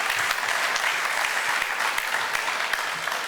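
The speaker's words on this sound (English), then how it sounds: "give her a round of applause" Steady applause from an event audience welcoming a new leader, dense continuous clapping at even loudness with no voices over it.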